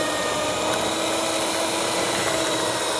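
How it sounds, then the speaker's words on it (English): An egg is whisked into cupcake batter in a bowl as a steady, loud, unbroken whirring scrape that holds an even level throughout, with no talking. "Now you need to whisk this egg in well before you add the next one"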